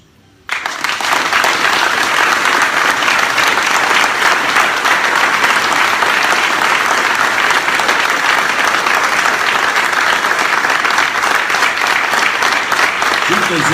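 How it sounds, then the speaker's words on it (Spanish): A crowd at an Alcoholics Anonymous gathering in Mexico breaks into loud, sustained applause after a brief quiet start, and the dense clapping holds steady for over twelve seconds. "Te lo queremos agradecer con un fuerte aplauso."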